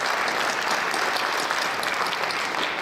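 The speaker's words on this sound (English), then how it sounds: "Let's give everyone one quick round of applause" A short, loud burst of audience applause fills the whole moment, a dense and continuous wash of clapping at an event honouring volunteers and helpers.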